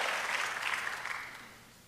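A church congregation at a Spanish-language jubilee service in Poughkeepsie, New York, bursts into applause for the Lord, a bright full roar of clapping that slowly tapers off toward the end.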